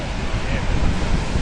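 Rough Cantabrian sea water rushes past like a river, a loud, dense roar with wind buffeting the microphone throughout.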